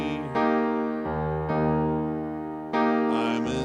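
Crooner jazz standard chords voiced as plain triads, strummed clean on guitar in four sustained changes, each struck chord ringing out, moderately loud with no talk.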